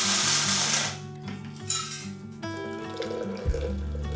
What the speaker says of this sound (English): the next thing I do is make coffee